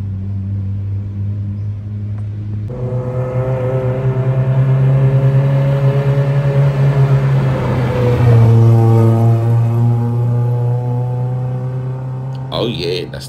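A Honda car with a D16A6 VTEC engine drives by on a winding road, its engine hum rising twice as it accelerates, steady and fairly close.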